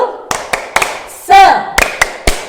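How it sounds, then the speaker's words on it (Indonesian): Group rhythmic 'tepuk semangat' clapping led by a teacher at Sekolah Alam Al-Karim: several sharp, separate claps in a steady pattern. Voices chant and talk between the claps. "Tepuk semangat dulu ya."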